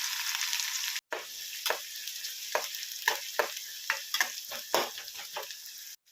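Onions sizzle in hot oil with mustard seeds and cumin for an Indian okra stir-fry, a steady bright frying hiss broken by repeated crackles and spatula scrapes, close with no talk.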